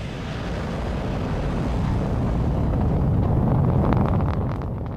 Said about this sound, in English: What you just heard was the sound of the Jupiter Icy Moons Explorer,